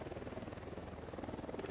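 A helicopter approaches in the video game Ghost Recon Wildlands, its rotor making a faint, steady, continuous thrum with no talking.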